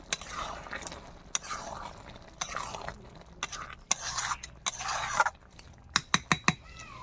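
A spoon stirs chana dal with soybean in a pan after ghee is added, giving soft scraping and mushy sloshing in uneven bursts, with a few sharp utensil taps near the end.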